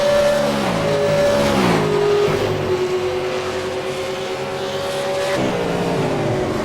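A V8 Supercar race car in iRacing at the Montreal circuit, its engine note dropping through downshifts into a chicane and then climbing steadily under acceleration, loud and close, with no talking.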